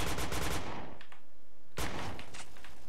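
Rapid bursts of loud gunfire in a first-person shooter, dense automatic fire that breaks off into a short pause before another volley starts, close and harsh.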